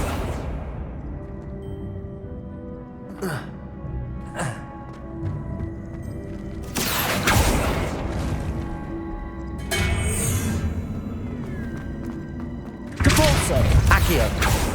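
Accio spell effects in the video game Hogwarts Legacy come as several sharp whooshing bursts and clanking, creaking mechanical movement, spaced irregularly over a low rumbling game background.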